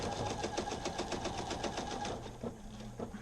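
Sewing machine running a straight stitch down a pants seam, a steady rapid mechanical chatter close by that slows and stutters near the end.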